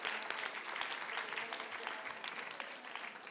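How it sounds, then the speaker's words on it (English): An audience at a conference panel applauds in person, a soft, dense, continuous patter of many hands clapping, distant and steady throughout. "give yourselves a round of applause in person and online"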